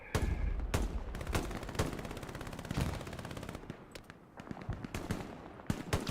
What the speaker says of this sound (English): with his machine gun shooting flank fire down there